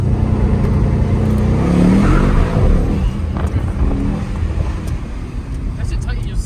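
A Mercedes-AMG GT63S launches hard, its engine building to a loud, rising roar heard from inside the car, with a voice talking over the start.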